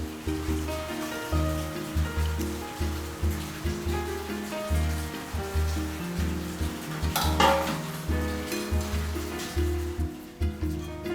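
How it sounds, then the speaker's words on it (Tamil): Somas deep-frying in oil, a steady sizzle under repeated rhythmic clinks of a utensil against the pan, with a brief louder scrape and bubbling flare midway. "இதே மாதிரி நம்ம எல்லாத்தையும் போட்டு பொரிச்சு எடுத்துக்கலாம்."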